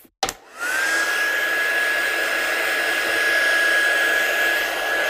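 A hot air tool used to dry embossing powder resist switches on with a click and settles into a steady, loud whooshing blow with a constant high whine, running alone without talk.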